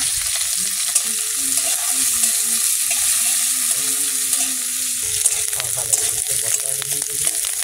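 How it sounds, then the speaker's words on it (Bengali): Garlic and green chilli fry in hot oil in a wok, a steady loud sizzle running throughout with occasional spatters and faint background tones. "কড়াই তেল দিয়েছি, তেল রসুন কাঁচা লঙ্কা সব একসাথে দিয়ে দেবো।"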